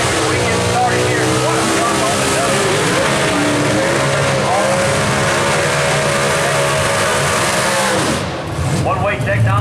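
A 1967 Camaro drag car at a Southeast Gassers event revs hard with a loud, sustained engine roar, rising and falling through the revs. Other race engines and crowd noise sit underneath, and a commentator's voice runs over it.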